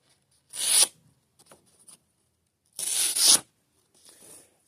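A snake eye knife cuts through thicker paper in two separate, crisp tearing strokes, each loud and close, with quiet handling rustles between and a faint scrape at the end.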